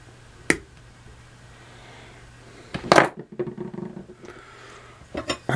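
A hammer taps a metal pin into straight razor scales, giving a few sharp, close metallic strikes with quiet gaps between them, one hit clearly louder than the rest.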